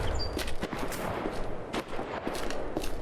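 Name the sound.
gunfire in the video game S.T.A.L.K.E.R. Project Silverfish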